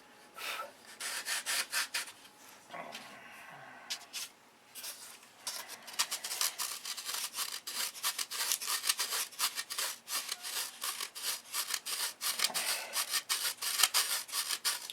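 Hand sanding on a fuse layout, a rapid, steady series of scratchy rubbing strokes close up, fairly quiet, with a brief pause early on before the rhythmic strokes resume.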